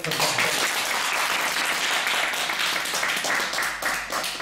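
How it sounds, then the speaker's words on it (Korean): A large audience at a lecture applauds with sustained, dense clapping that holds steady throughout, then tapers slightly near the end. "그러면 큰 박수로"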